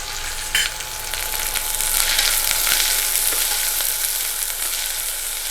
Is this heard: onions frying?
yes